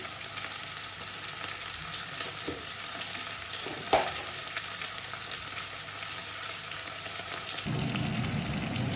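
Tomatoes going into a frying Jaffna dried-fish curry (karuvaddu kulambu) with drumsticks, a steady loud sizzle with stirring clatter and a brief scrape, the frying swelling louder near the end.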